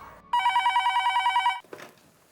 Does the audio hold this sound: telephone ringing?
yes